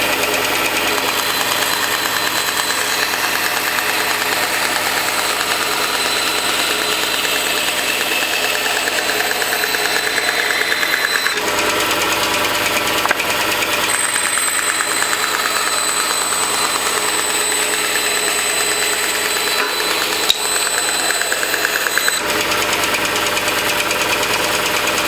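An Axminster AP1854BV bandsaw running steadily while cutting through one-inch plywood, a continuous loud mechanical drone with blade whine that holds constant for the whole stretch, no talking.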